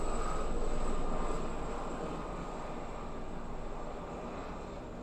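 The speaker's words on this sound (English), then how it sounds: "please excuse the helicopter flying by my house." A helicopter flying past a house: a steady, broad rumbling engine drone, moderately loud at first and easing slightly as it passes, with no talk over it.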